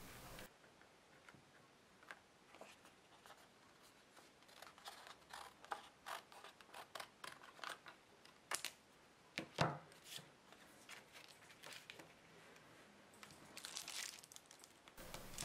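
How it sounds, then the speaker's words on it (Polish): Photographic paper for a pinhole camera being trimmed with scissors, giving a faint series of small crisp snips and paper rustles at an irregular pace in a quiet room. "Do prostokątnego aparatu będzie trzeba przyciąć papier, tak żeby był trochę mniejszy od dekielka."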